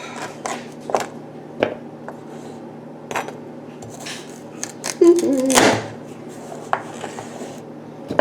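A kitchen knife chops vegetables on a cutting board in a home kitchen, sparse irregular taps and scrapes with one louder scraping burst midway, close and moderately loud over a quiet background.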